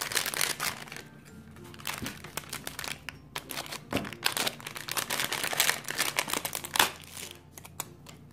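Washi tape is handled up close, giving crisp crinkles, rustles and short papery rips in irregular bursts with quiet pauses between them and no voices.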